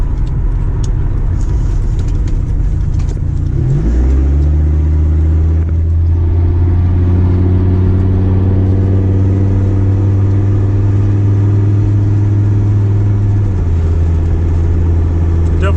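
A lowered Mercedes W123 diesel car drives along, its engine a loud steady rumble inside the cabin that rises in pitch as it accelerates through gears, with no talk.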